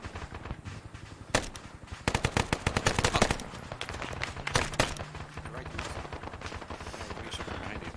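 Gunfire in ArmA 3 crackles through a combat scene as bursts of rapid automatic shots and single sharp reports, some close and loud, others more distant.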